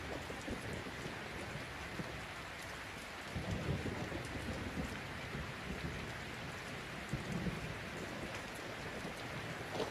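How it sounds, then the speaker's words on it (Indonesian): Steady rain pours down with low rumbles of thunder rolling in and out underneath, a dense, even hiss that swells at moments with the deeper thunder. "Enak nih suara hujan."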